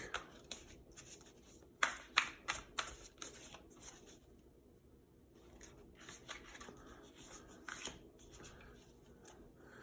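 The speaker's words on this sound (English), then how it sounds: "Decided to do some shuffling for this week." Tarot and oracle cards are shuffled in quick riffling bursts, soft and close, with pauses between rounds of shuffling in a quiet room.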